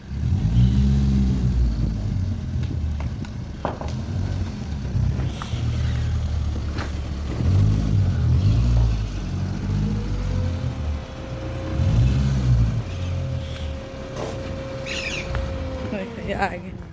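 A car arrives and pulls up, its engine rumbling and revving low, with a cow nearby. People talk over the engine noise throughout.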